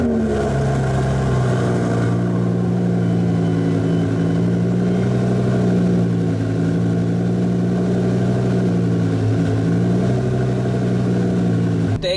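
Twin-turbo Lamborghini on winter tires, cold after a month unused, idling with a steady, loud, close engine rumble and slight rises in pitch from light revs, with no clear startup moment.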